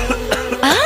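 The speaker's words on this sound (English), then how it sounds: "got a cough." A cough from someone with a sore throat, a few short harsh bursts close up followed by a rising voiced sound at the end.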